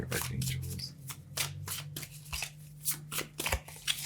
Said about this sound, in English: Every time I shuffle and look away, like the cards just want to fly.